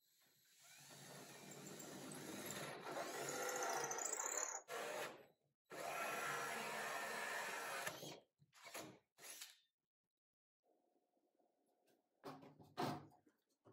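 A 1-inch spade bit grinds slowly through a wooden door, loud broadband drilling sustained for several seconds, then stopping and restarting in short bursts with gaps of silence and a faint hum near the end.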